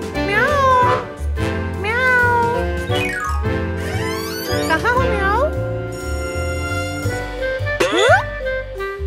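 A kitten in an animated children's story meows repeatedly in rising, sliding cries, close and clear over a steady musical background.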